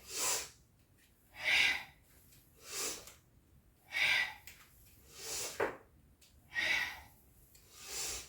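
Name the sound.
deep breathing in and out during a yoga exercise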